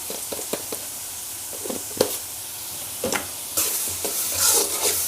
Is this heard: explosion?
no